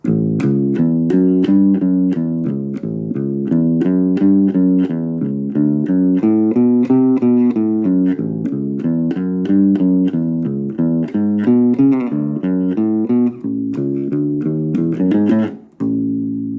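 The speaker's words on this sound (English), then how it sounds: "we're going to look at the guitar boogie adapted for bass." An instrument plays a bouncy, repeating boogie line in the low-mid register, notes plucked evenly and steadily, solo and close, ending with a brief flourish.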